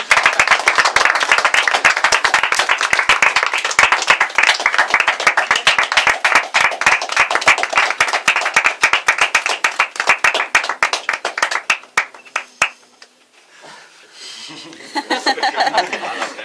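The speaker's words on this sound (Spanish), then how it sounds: "Y un aplauso para ellos que se van a currar mucho." Audience applause at a live medieval-fantasy storytelling event, dense sustained clapping for about twelve seconds that cuts off abruptly, followed by faint murmuring and a few voices.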